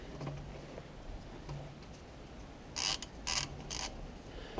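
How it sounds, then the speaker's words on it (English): A ratchet wrench loosens the oil drain bolt on a Ford Galaxy 2.0 TDCi during an oil service, giving three quick bursts of clicking near the end after a quiet stretch of low hum. "So let's open this bolt."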